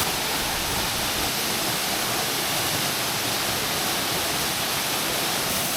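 A waterfall in a tropical Queensland jungle pours in a steady, loud, broadband roar that stays unbroken from start to finish, with no voices over it.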